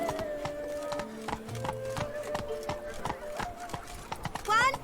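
Geralt's horse Roach gallops in The Witcher 3: Blood and Wine, a steady rapid clip-clop of hooves with a whinny near the end, under game music and a voice talking.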